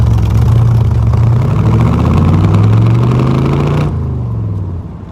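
A 1966 Corvette engine droning loud and close while driving, with steady rising and falling pitch under load before easing off and fading toward the end; no talking.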